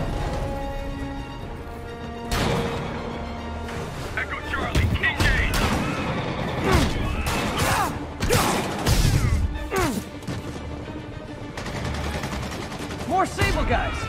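Security guards open fire in a Spider-Man video game, bursts of rapid gunfire and crashing impacts rattling in clusters through a loud combat mix, with shouting voices between volleys.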